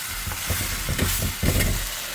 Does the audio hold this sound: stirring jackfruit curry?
yes